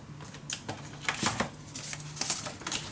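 Scissors cutting paper for a scrapbook mini album page, a quick run of close snips and rustling crinkles with no talking.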